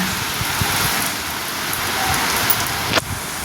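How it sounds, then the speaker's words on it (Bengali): Freshly started rain patters densely on a rooftop and plants, a constant close hiss with one brief sharper knock near the end. "এক্ষুনি নামলো বৃষ্টি, বৃষ্টিটা জাস্ট নামলো"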